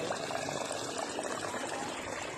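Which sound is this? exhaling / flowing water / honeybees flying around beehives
flowing water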